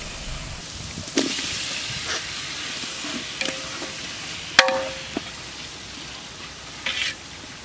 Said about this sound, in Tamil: நம்ம இப்போ தக்காளியை சேர்த்து வதக்கிப்போம்.